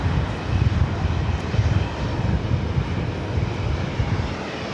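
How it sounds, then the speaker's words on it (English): A LOT Polish Airlines Boeing 787-8 Dreamliner bound for Warsaw at Los Angeles International Airport, a broad, steady roar of jet engines that pulses gently and holds loud throughout. "Lot, flight 22, 787 to 8 Dreamliner heading back to Warsaw"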